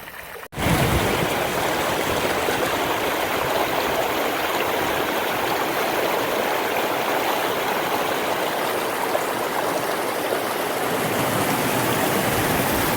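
A mountain stream on the Appalachian Trail in New Hampshire rushes and splashes in a steady, full-bodied roar close by, continuing without a break after a brief quiet opening, with no voices.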